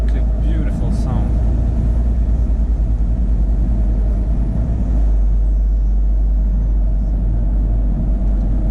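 A 2017 Scania G490 truck engine rumbles steadily while driving, deep and loud from the cab, with a faint high whine and brief clicks near the start.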